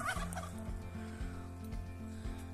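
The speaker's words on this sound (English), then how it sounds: "I'm going to have to move the turkeys for that one." Several turkeys gobbling close by in rapid repeated bursts, loud and clear with no talk over them.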